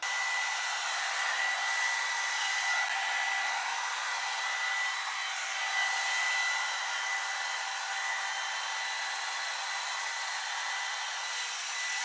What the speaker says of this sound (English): that's how I blow dry my hair